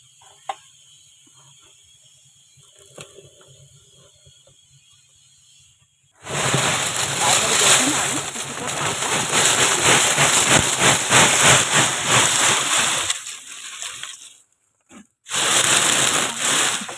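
Sand poured as a layer into a drum while preparing potting media for a four-year-old sapodilla tree, a loud continuous gritty hiss running about eight seconds after a quiet start, then breaking off and returning briefly.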